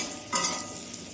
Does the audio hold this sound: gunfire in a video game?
no